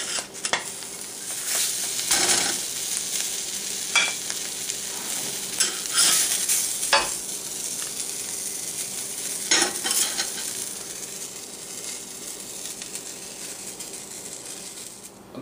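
Bacon frying in a pan, a steady close sizzle and crackle with spatula or utensil scrapes and clinks throughout and no talking.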